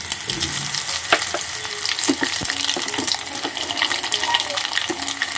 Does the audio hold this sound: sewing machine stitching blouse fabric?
no